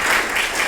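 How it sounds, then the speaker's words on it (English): A steady burst of audience applause after thanks to arts sponsors at a theater event, loud and continuous for a brief moment with no voices over it. "Let's give them a big round of applause."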